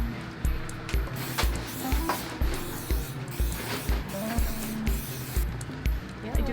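Cooking spray hisses in short bursts in a busy kitchen while people make keto donuts. The sprays come in a fast, repeated rhythm over clattering and general background noise.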